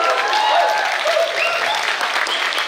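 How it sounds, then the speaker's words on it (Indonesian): Loud, steady audience applause at a student camp gathering, many hands clapping densely and evenly, with faint voices and cheers mixed into the crowd noise. "Boleh tepuk tangannya, teman-teman?"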